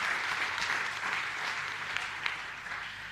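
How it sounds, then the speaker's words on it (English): A convention audience gives a continuous round of applause for Inspire Challenge applicants at an agriculture big-data event, a dense, even wash of clapping heard from a middle distance with a few sharper claps standing out. "Just another round of applause for our Inspire Challenge applicants"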